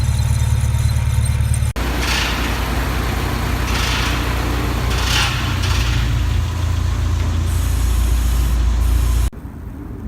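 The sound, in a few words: Subaru Impreza differential making a scraping noise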